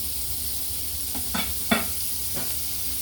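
Margarine sizzles in a frying pan while cheesesteak sandwiches are being made, giving a steady close hiss broken by a few soft scraping stirs, with no talking.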